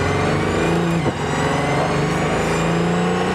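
The hybrid V12 of an Aston Martin Valkyrie hypercar revs loud and close, holding a steady, dense, high-pitched engine roar with many layered harmonics and a brief dip in the middle.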